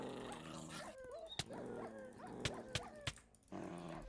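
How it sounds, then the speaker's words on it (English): A tamed dog in Hypixel Skyblock, a Minecraft game, gives a run of faint whimpers, yips and short barks over a low game background, with a few sharp clicks from hits. "you can see it's now technically a tamed dog"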